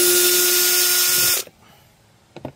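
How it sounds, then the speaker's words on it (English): A power drill whirs loudly and close while backing screws out of the wheel well of a 2024 Hyundai Sonata, one sustained high whine that stops abruptly, followed by faint small clicks. "There are three screws that need to be removed, so I'll do that first."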